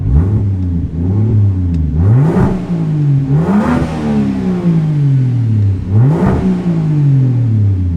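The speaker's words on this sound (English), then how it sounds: "Here's what it looks like when you're revving it." A BMW car engine revs up sharply several times in a row, each rise in pitch followed by a drop back to idle, close and loud with no talking.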